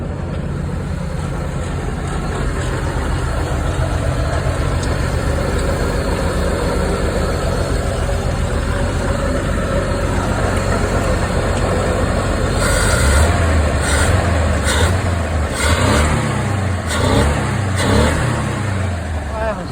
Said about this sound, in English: I'm moving my 1961 Chevy Dubl-Duti Stepvan. It's running.